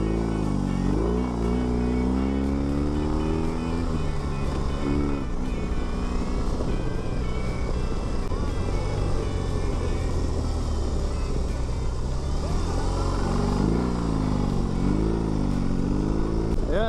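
A BMW R18 Bagger motorcycle ridden on the road, its engine a steady, loud rumble with rising and falling tones as it slows into turns and picks up again, under constant wind noise and occasional talk from the rider.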